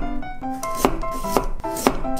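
Carrots being chopped into thin strips with a knife on a cutting board, three crisp, evenly spaced blade strikes close up, with faint rustle between them and no voices.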